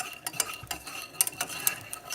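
Butter and flour being worked together in a pan for chicken pie filling, with a utensil repeatedly scraping and clinking against the metal in uneven, close strokes and a faint sizzle underneath.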